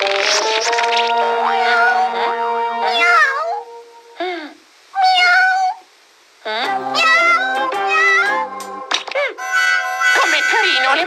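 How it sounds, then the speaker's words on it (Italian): A cat meows repeatedly, a series of high, wavering cries with short pauses between them, close and clear. "mi è sembrato di sentire il miagolio di un gatto"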